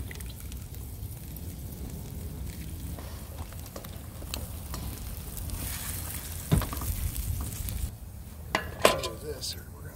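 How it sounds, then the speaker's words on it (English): Bacon frying over a campfire while winter camping at Alum Creek State Park: a constant crackling sizzle with scattered sharp pops and a few utensil clinks, steady and fairly close. "We're gonna cook up all the bacon"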